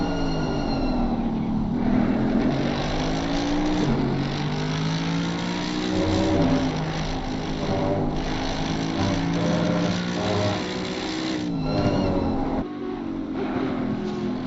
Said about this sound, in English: We do love the sound of the Mercedes.